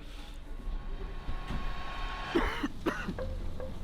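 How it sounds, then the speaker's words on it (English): A man coughs several times in quick succession at close range, harsh rasping bursts against a low background hum, just after stepping outside into extreme cold in Yakutsk. "as soon as he stepped out, man was coughing"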